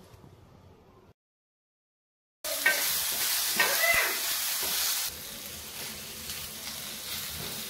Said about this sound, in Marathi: तव्यामध्ये 1 चमचा तेल टाकून त्यामध्ये कापलेला कांदा, आलं, लसूण, टोमॅटो आणि सुक्क खोबरं भाजून घेतले।